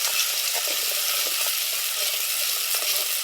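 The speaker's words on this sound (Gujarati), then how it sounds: "જુઓ આવી રીતે કંઈક ટમેટા નાખી દીધા છે, એને પણ હલાવવાના છે આપણે" Tomatoes fry with onions and chillies in an oiled pan while being stirred, giving a loud, continuous close hiss with soft scraping and bubbling accents throughout.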